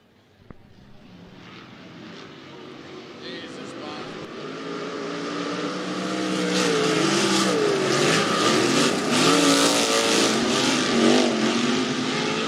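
Sprint cars roar around Rapid Speedway in a heat race, engines rising from a distant drone to a loud, sustained howl as the field passes close, with an announcer talking over the racing.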